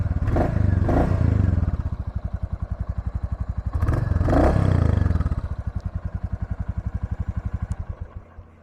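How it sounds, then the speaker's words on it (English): A 2023 Royal Enfield Classic 350 motorcycle idles with a steady thumping exhaust, then gets two short throttle blips that swell into throaty revs before settling back to idle, close and loud with no talking. "I'll give it a couple small revs for you."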